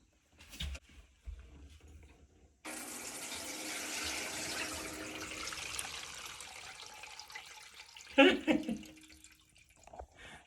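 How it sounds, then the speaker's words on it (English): Water poured into the basin of a front-load washing machine, a steady splashing rush lasting several seconds, close, with a few clunks before it and a brief sharper splash near the end. "I'm going to try to pour water into the basin and see if I could drain it out a little bit."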